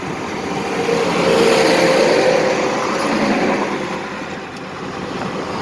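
An electric 1-ton truck hauling heavy equipment cruises down a highway at about 47 mph, producing steady road and wind roar that swells and fades slightly, with no engine note and no speech.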